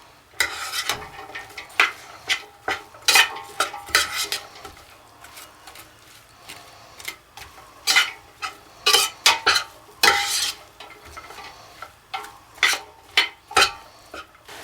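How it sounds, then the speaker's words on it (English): Ground beef cooks in a pan while a utensil stirs and scrapes it in repeated bursts over a soft, continuous sizzle, close and loud, with no talking. "We're going to cook this for 8 to 10 minutes or until the beef is done."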